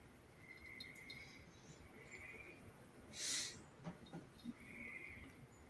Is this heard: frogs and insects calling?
yes